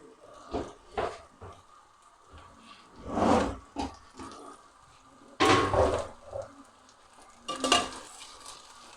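Okra (bhindi) fries in hot oil in a pan for a Bengali bhindi dish, with a soft continuous sizzle broken by several louder bursts of stirring and scraping.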